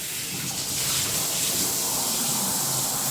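Water from a grooming sprayer or tap runs steadily over a dog's head during a rinse, a continuous soft hiss of flowing water close by.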